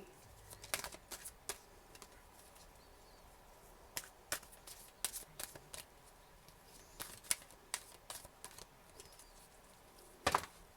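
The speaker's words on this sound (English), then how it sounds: "This is a big deck, so it's a little awkward to shuffle sometimes." A large, awkward tarot deck being shuffled by hand, heard as quiet clusters of sharp card riffles and snaps with pauses between, ending in a louder burst.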